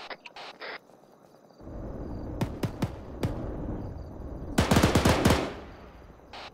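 Rapid bursts of gunfire from a tank during a field training exercise, two separate volleys of quick sharp cracks over a low rumbling background, with no talking.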